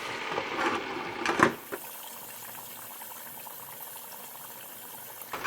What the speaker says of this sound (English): And down into the oil they go.